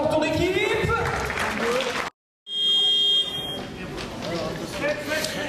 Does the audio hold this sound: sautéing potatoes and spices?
no